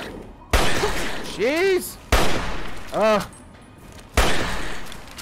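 Weapon fire in Fallout 3, with three sharp, loud shots spaced about two seconds apart, each trailing off into a ringing tail, while a voice reacts between them.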